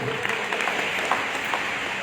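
An audience at a seminar claps in a brief, steady burst of applause, a dense patter of many hands close by with no voices over it.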